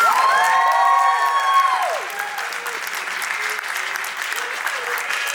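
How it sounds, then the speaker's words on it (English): Crowd applause with whoops and cheering at a furry convention dance competition, loud sustained clapping with excited high shouts early on, then settling into steady applause. "Can we get a round of applause, please?"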